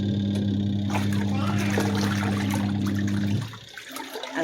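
A home washing machine spins soap and water before clothes are added, giving a loud steady motor hum with sloshing water; it cuts off near the end, leaving quieter background noise.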